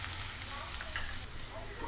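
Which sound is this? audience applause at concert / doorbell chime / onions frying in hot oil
onions frying in hot oil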